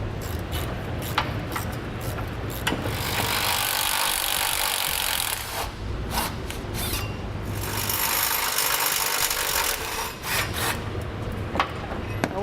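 Tow hook bolts are worked loose from underneath the front of a 2003 Ford Explorer, producing a long, loud, continuous grinding and ratcheting rasp close by, with brief breaks and bursts of tool noise.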